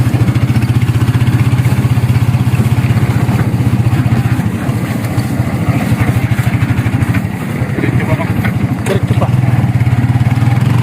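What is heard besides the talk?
motorcycle engine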